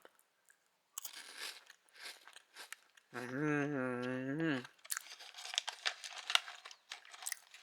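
Crunchy wafer stick snack about an inch long being bitten and chewed, with crisp crackling crunches up close, a short stretch of voiced humming in the middle, and more crunching afterward.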